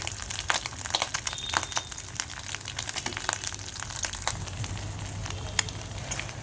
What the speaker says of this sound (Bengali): দেখুন আমি ডিমটা ভাজছি